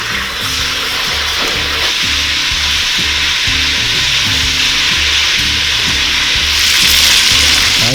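Meat sizzles and fries loudly and steadily in a deep kazan, with occasional stirring scrapes breaking the crackle.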